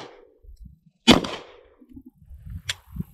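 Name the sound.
gun clicking on a dummy round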